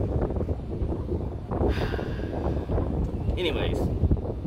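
Steady wind buffeting a microphone beside the road in Houston, a dense roaring rush that continues throughout with a brief higher whine partway through.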